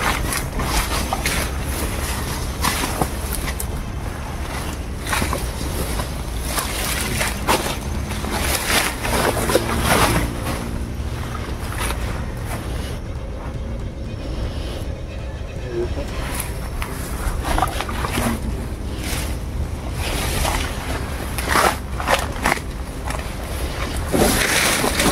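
Strong wind roars steadily across a boat at sea, a dense, unbroken rushing noise with gusty surges, while voices speak faintly underneath.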